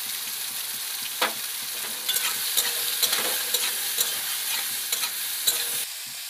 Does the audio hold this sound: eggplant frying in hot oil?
yes